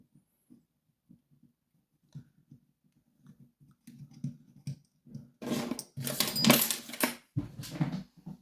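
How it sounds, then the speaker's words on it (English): A screw is backed out of a Mul-T-Lock interactive padlock during gutting: faint sparse ticks at first, then close, loud metallic scraping and rattling bursts. "Remove this screw."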